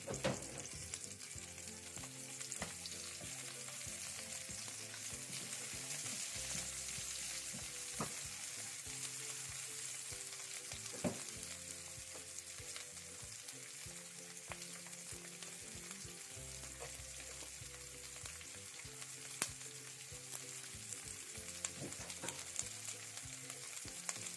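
Steady, close sizzling of chillies and aromatics frying in hot oil in a wok, with occasional scraping and stirring sounds throughout. No voices.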